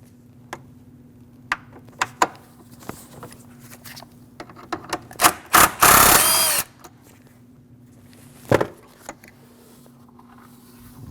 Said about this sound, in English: Now let's get ready to remove the battery tie down. 10mm bolt with a plastic hold down.